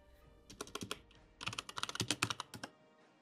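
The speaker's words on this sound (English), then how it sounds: "First, we type enable and press enter." Typing commands on a computer keyboard produces two quick bursts of close, crisp key clicks, a short run followed by a longer rapid flurry, with no one talking.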